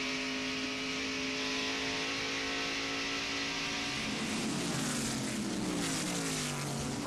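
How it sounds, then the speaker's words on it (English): Stock cars racing at the 1992 Miller Genuine Draft 500, several engines droning steadily together on the track, with a louder roar swelling in as a pack passes close by near the end. "First 5 cars right together on the racetrack, nose to tail."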